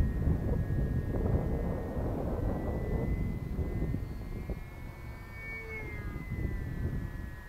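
The engine of a Waco model airplane screams at full throttle into a gusting wind, a thin steady whine with shifting pitch over heavy low wind buffeting on the microphone.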